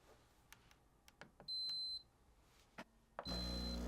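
A Ninja Luxe Cafe espresso machine gives two loud, high-pitched electronic beeps, one short and one sustained, with faint clicks and handling noises between them.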